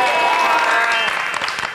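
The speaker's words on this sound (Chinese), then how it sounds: "好了，掌声鼓励！" Audience applause at a children's TV variety show, a short, dense burst of clapping with a few cheering voices mixed in.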